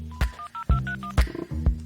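A telephone number is dialed on a keypad: a quick series of distinct touch-tone beeps, each short and clear, with brief gaps and a few clunky key presses between them, close and fairly loud.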